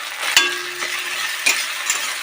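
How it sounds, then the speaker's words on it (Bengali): Onions fry with ginger and garlic paste in a pan, a steady close sizzle broken by a few sharp scrapes and knocks of a stirring spoon, with no talking. "পেঁয়াজটা খুব লাল লাল করে ভেজে নিতে হবে।"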